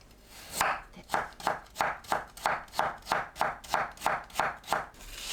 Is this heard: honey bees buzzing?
no